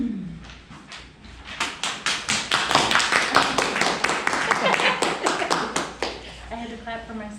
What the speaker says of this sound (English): I had to clap for myself.